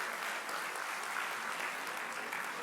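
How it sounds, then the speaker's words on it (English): An audience at an annual accountants' conference in Dubai claps loudly and steadily, a dense crowd of hands applauding for a few seconds with no voices over it. "Please have a huge round of applause for CA Ranjan Shah."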